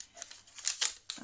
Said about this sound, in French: Donc aujourd'hui qu'une seule enveloppe. Je ne vais pas arriver à l'ouvrir comme ça.